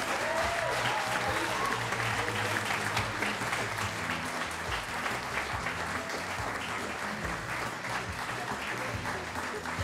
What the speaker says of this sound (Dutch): Mag ik een heel erg hartelijk applaus voor mijn fantastische zangers.